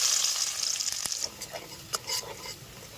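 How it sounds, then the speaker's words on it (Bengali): Chopped ginger and garlic sizzle loudly in oil at first, then the frying quiets and gives way to sparse stirring clinks and scrapes nearby. "আমাদের আদা রসুন কুচানো ভাজা হয়ে গেছে।"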